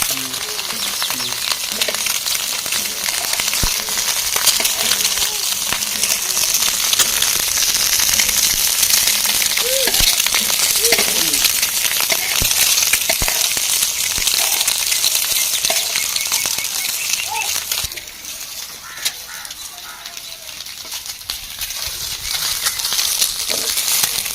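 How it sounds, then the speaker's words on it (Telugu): Eggs frying in plenty of hot oil in a pan, a loud steady sizzle and crackle with sharp spitting pops throughout, easing slightly near the end. "ఆ ఎగ్గులు మొత్తం పోసిన తర్వాత ఇంకా వాటి పైన అయితే ఇంకా ఆయిల్ పోస్తున్నాం అండి"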